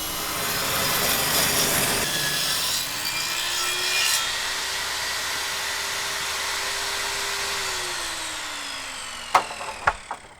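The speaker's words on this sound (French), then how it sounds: "la poutre qui sera sciée soit à fleur juste en dessous de la scie circulaire sur table" A table circular saw cuts a wooden beam. The blade whines steadily at a fixed pitch through the cut, under loud rasping wood noise, then spins down. A few sharp knocks of wood follow near the end.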